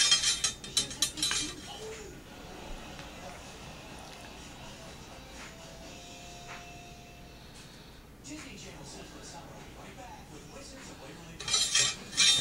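Cleaning rod worked back and forth inside a Mosin Nagant rifle barrel to polish the bore, giving metallic scraping and clinking, with sharp clicks at the start and end and a softer rubbing hiss between.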